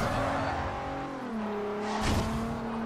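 In Forza Horizon 2, a car drifts with its engine holding a steady high drone that shifts pitch, and tires squeal briefly near the end, loud and close with no talk.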